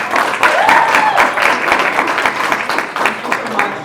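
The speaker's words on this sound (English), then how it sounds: "let's give her a humongous round of applause to get her started" Loud, dense applause from an audience welcoming a speaker, sustained throughout with a brief vocal whoop early on and slight tapering near the end.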